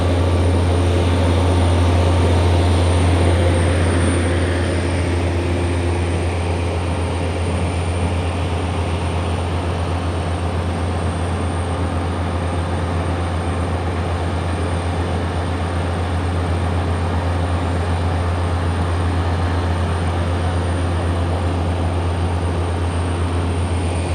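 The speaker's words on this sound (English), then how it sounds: "They're doing some construction work, so apologies for the noise." Heavy construction machinery runs on a Lower Manhattan street near the World Trade Center, a loud steady low rumble with a constant drone that stays dense and unbroken throughout, with no talking.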